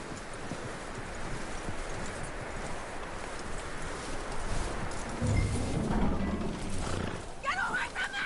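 Horse hooves clip-clop at a walking pace in the western game Red Dead Redemption 2, a steady muffled plodding under ambient outdoor noise, with a short tonal effect near the end.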